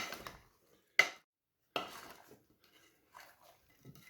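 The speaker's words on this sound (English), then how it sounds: "now just mix it up" A spoon stirring fruit salad in a bowl, a few separate clinks and scrapes with quiet gaps between them, close by.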